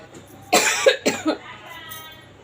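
Two or three harsh coughs from smoke from a cooking stove in a very small room, close and fairly loud, followed by quieter breathing and faint background noise.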